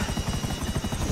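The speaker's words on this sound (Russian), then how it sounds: "Вертолет." A helicopter in the video game Grand Theft Auto V, its rotor beating in a fast, steady, loud thump that runs unbroken through the whole moment.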